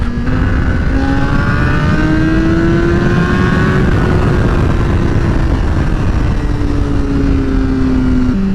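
A 2008 Honda CBR600RR fitted with a Vortex quick-accel chain and sprocket kit pulls hard in third gear from about 55 mph, its engine note climbing steadily and loud for the whole stretch, with a brief shift-like dip near the end.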